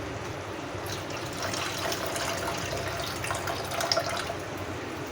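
Water poured off from a pot of soaking rajma, a soft continuous splashing trickle at close range, steady and fairly quiet with no voices.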